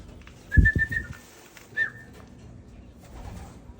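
Short whistled coos and clicks from free-flying pigeons, kalapati, with two bursts of calling near 0.6 and 1.8 seconds, and faint background noise between them.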